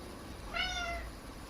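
A house cat named Felix lets out a single clear, rising meow of about half a second, close by and fairly loud over a quiet room hum.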